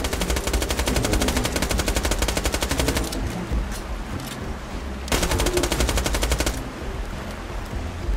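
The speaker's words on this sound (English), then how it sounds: "Let's shoot them up then." Rapid automatic gunfire in the Borderlands 2 video game, two long loud bursts of machine-gun fire separated by a short lull of scattered shots.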